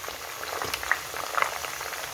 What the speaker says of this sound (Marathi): तेल चांगलं गरम झालेलं आहे